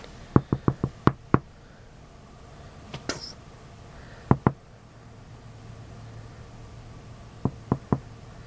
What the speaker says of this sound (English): You're still knocking.